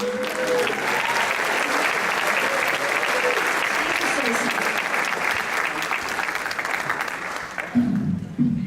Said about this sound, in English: Let's have one more round of applause because they're shy.